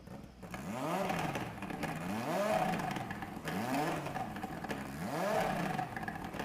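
Engine of the Suzuki Vision GT in Gran Turismo 7 revs repeatedly, pitch sweeping up and dropping back in three rhythmic cycles, loud and steady with no talk.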